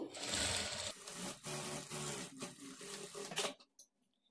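A sewing machine runs in a steady burst while stitching a blouse lining, then stops about three and a half seconds in, leaving a few faint clicks and rustles.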